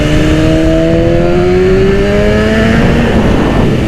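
Loud four-cylinder engine of a 2010 BMW S1000RR sport motorcycle revving hard while riding, rising pitch sweeping up through the gears close to the microphone, with steady wind roar underneath.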